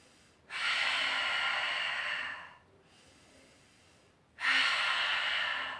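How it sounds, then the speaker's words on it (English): Two long, forceful exhales through the mouth during a mat Pilates breathing exercise, each a steady breathy rush lasting about two seconds, with a quiet pause between them and no talking. "exhale through the mouth."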